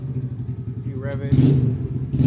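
A Honda Grom motorcycle engine idles with a steady low putter, then briefly revs up louder before settling back down, heard close by.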